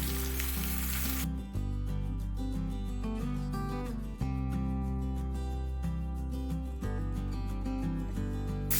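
Bacon and pancakes fry together in a pan, giving a loud, continuous close-up sizzle with crackling pops throughout, alongside a steady tonal hum.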